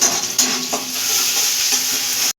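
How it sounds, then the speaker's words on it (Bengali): Onion fries with salt in a pan for a rohu fish curry, giving a loud, close, steady sizzle with a few soft stirring scrapes before it cuts off abruptly. "নুন দিয়ে আমি পেঁয়াজটা হালকা লাল করে ভেজে নেব।"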